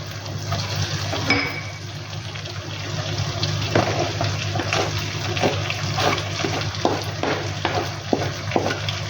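Green chillies, fresh coriander and mint frying in a pan for squid masala, giving a steady close sizzle with scattered crackles and occasional stirring clatter, no voices.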